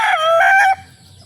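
An 11-month-old red gamefowl rooster gives one short, loud, close crow that breaks off sharply, leaving faint background noise and no talking.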